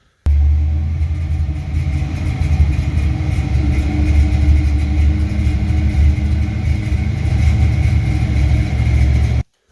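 Big block Foxbody with headers and a 3-inch H pipe into two Flowmaster mufflers idles steadily, a deep, even rumble close up that holds for the whole stretch before cutting off abruptly.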